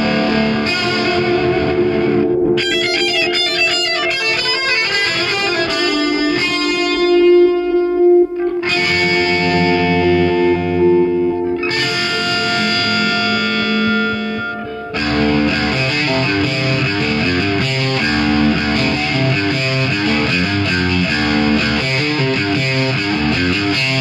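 Heavily distorted Telecaster electric guitar on the bridge pickup, volume and tone at maximum, playing chords and riffs, loud and continuous, with bright crunchy overdrive and sustained ringing notes.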